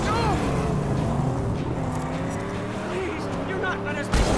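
A car from the Mad Max video game drives with a steady engine drone and shifting revs, joined by brief tire noise, while a voice talks over it near the end.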